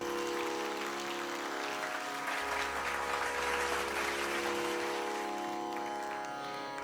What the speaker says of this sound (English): Can we have another huge round of applause for our artists?